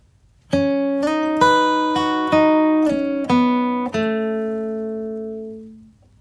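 A flatpicked acoustic guitar plays a brief phrase of about seven eighth notes, close and clean, the last note ringing out and fading.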